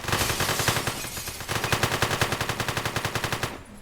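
Rapid automatic gunfire in a heist video game, loud and continuous: a fast burst, a brief pause, then a long, evenly pulsing stream of shots that cuts off abruptly.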